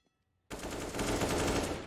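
Rapid rifle fire erupts in Counter-Strike on the Overpass map, a dense close burst of shots after half a second of near silence.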